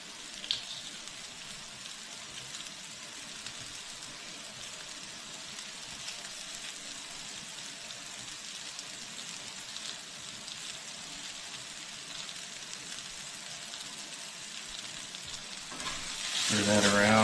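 Garlic frying in a pan, a long, even, fairly quiet sizzle crackling steadily like light rain, swelling louder at the very end.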